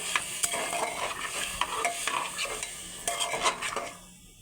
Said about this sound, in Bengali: এবার আলুটা দিয়ে দেব আলু ভালো করে একটু কষে নেব ভালো করে একটু কষাতে থাকবো